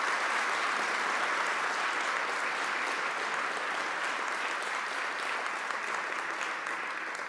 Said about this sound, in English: Would you guys give them a big round of applause?